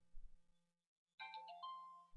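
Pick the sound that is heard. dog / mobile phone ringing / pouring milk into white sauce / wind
mobile phone ringing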